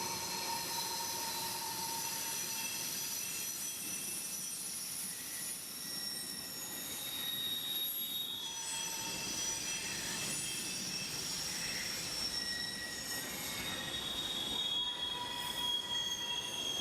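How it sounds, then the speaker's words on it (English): Freight train wheels squeal steadily at the southern entrance of the B&O Howard Street Tunnel, near the Ravens stadium, a sustained metallic shriek with shifting tones over low rumble, continuous and fairly loud with no talk. "I tried one more time to catch a train going into the southern entrance of the tunnel"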